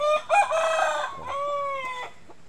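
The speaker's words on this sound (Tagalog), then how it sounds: "Ito yung tandang ko, 2." A rooster crows nearby in a farmyard: one full, loud cock-a-doodle-doo with a rising start and a long, steady drawn-out tail lasting about two seconds.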